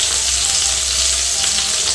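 Ginger dropped into a hot frying pan of tomatoes for a brinjal siraji makes a loud, even sizzle that holds steady from start to finish, with no talking.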